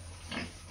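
A pig on a pig farm gives a brief, faint grunt that rises out of steady low background hum.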